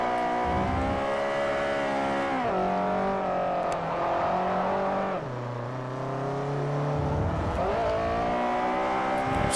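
A Mitsubishi race car engine in the Forza Motorsport 4 racing game, revving steadily and loudly with a rising pitch through the gears, then bogging down in a lower note after an upshift before climbing again.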